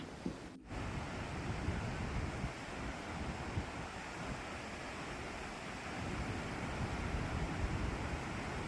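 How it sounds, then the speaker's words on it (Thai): Fast, churning river rapids in southern Laos rush below a rope bridge, a steady loud roar of whitewater with broadband wind-like rumble, close and continuous throughout without talk. "มองไปข้างล่างหวาดเสียวมากเลยค่ะน้ำเชี่ยวกราดมากๆ"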